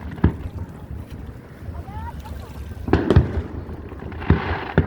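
Fireworks show exploding over Antioch, California, heard as a few deep thumping bursts at a distance, with a louder pair near the middle and another toward the end, over steady wind and outdoor rumble.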